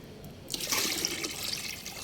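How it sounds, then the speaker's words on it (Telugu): After a quiet moment, water splashes and swirls steadily in a container close by as tea powder is mixed in by hand, a continuous liquid rush for the rest of the moment. "ఇలా వాటర్ తీసేసుకొని ఇందులో మొత్తం కలిపేస్తున్నాను"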